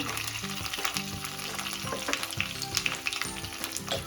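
Curry leaves and two long-slit green chillies sizzle in hot oil for a curd rice tempering, a steady close crackle with sharp spitting pops and occasional stirring clatter, no voices.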